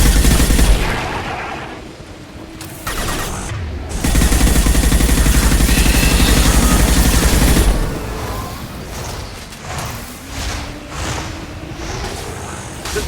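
Heavy bursts of gunfire from the Impact Shot power in Mass Effect 2, loud and close, with a dense sustained stretch of rapid shots in the middle and lighter scattered blasts and combat noise after it.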